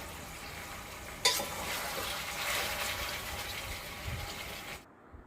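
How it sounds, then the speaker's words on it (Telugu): Chicken pieces being stirred in a hot pan while frying, a steady wet sizzle with scraping spoon strokes, loud and close, cutting off abruptly near the end. "చూడండి, ఇప్పుడు ఒకసారి కలుపుకుందాం."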